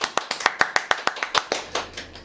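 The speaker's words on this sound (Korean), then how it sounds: "박수." A small audience claps in welcome for a guest at an interview, a quick run of about a dozen sharp, evenly spaced claps that loosen and thin out toward the end, fairly close and with no talking.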